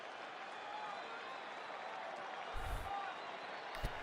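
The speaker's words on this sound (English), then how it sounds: "Crowd to their feet, anticipating Kershaw becoming the new strikeout leader for the Dodgers all time." Stadium crowd at a Dodgers–Tigers baseball game gives a steady, distant roar of cheering that swells slightly, with a couple of brief low thumps near the end.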